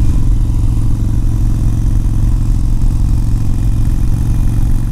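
A Harley-Davidson Iron 883 Sportster on Bridgestone Battlecruise H50 tires rumbles loud and steady while riding through a Wisconsin county park, its deep throbbing engine note constant throughout with no speech.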